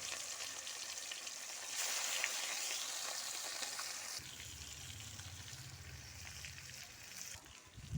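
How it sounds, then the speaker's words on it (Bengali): Rui fish frying in hot oil for a thin local rui fish curry with potatoes, a faint steady sizzle that brightens briefly, then settles under lower rumbling handling noise toward the end. "এখন মাছটা ভাজবো তেল গরম হয়ে গেছে"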